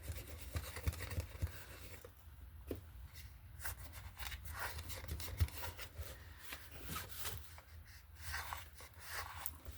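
A sponge rubs material into a mixed-media collage assemblage, giving soft, uneven scrubbing and dabbing strokes at close range, quiet and intermittent with small pauses between passes.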